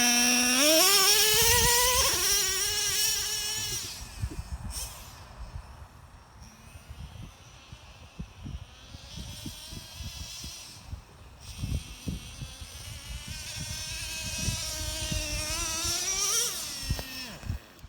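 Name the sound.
Traxxas Revo nitro RC truck engine running out of fuel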